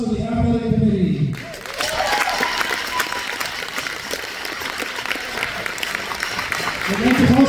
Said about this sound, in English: How about one more applause for the athletic committee?